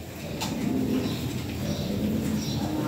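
Pigeons of a toy-bred fancy stock, kept for sale, coo in soft, low repeated phrases close by, with light rustling in the background.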